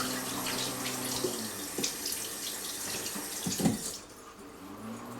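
Running tap water washes over an Antex soldering iron stand in a sink, a close splashing stream with irregular spatters and shifts as the metal is moved through it, easing off near the end.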